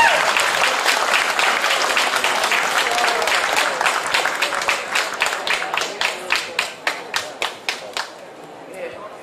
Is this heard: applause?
yes